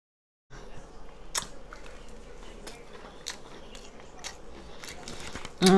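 Crunchy flapjacks bitten and chewed close up, with sharp crunching bites at irregular intervals over a quiet background, ending in a louder burst.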